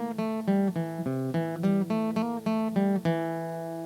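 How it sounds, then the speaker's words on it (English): Guitar boogie riff in C, a short run of plucked notes in a bouncing, repeated rhythm with a held final note, clear and close with no voices. "If I was going to play a boogie on the guitar in C,"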